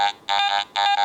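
AT Gold metal detector sounding its tone for an iron nail below the set discrimination level, three short buzzy electronic beeps in quick succession, loud and close with no other sound.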